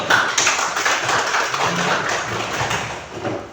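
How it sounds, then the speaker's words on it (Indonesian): A burst of rapid hand clapping from a group of children fills the space for several seconds, dense and fairly loud, with no talk over it. "Tepuk tangan dulu."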